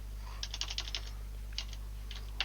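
Computer keyboard typing while entering field names in business software, quick bursts of close, light key clicks separated by short pauses over a steady low hum.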